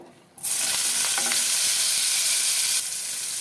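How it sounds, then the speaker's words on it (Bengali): Paneer pieces hitting hot mustard oil in a pan set off a sudden loud, close sizzle that holds steady and bright, easing slightly near the end. "দিয়ে দিলাম সর্ষের তেল পনিরগুলো ভেজে নেব"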